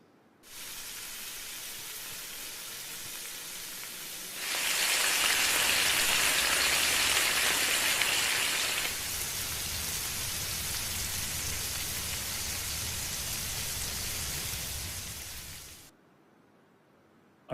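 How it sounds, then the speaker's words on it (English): Steady crackling sizzle of bacon frying in a pan, a dense hiss that swells louder midway, then stops suddenly. "I've added the sound of bacon frying"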